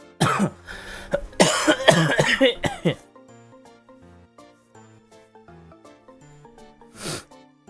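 Several loud, harsh coughs in a burst over the first few seconds, then quiet background music with one more short cough near the end.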